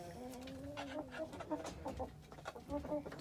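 Backyard chickens cluck and murmur in short, uneven bursts on a near-freezing day, moderately close and fairly quiet, with a few sharper calls breaking through.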